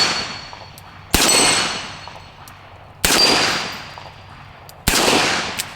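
Three loud gunshots from a Smith & Wesson Model 19 K-frame magnum revolver, fired about two seconds apart, each a sharp crack with a long ringing decay outdoors.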